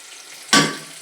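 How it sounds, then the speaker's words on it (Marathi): Tempering of curry leaves and turmeric hits hot oil for moong dal. A sudden, sharp sizzle bursts in midway and then decays into a softer crackle, with no talking. "फोडणी चांगली तडतडली आहे"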